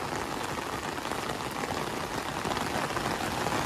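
Heavy rain falls in a mountain village with houses clinging to a cliffside, making a dense, steady hiss of drops drumming on surfaces, loud and continuous without speech.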